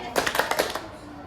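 Children in an eighth-grade group counseling class clap a short patterned clap game, about six quick sharp claps in a tight burst that then stops, leaving quiet room tone.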